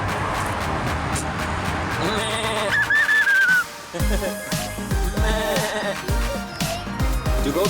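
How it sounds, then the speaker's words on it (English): Baby goat on a family farm bleating in short, wavering cries, close and fairly loud among other farm animal calls and background clatter, with no speech. "Do goats make that sound? What sound does a goat make?"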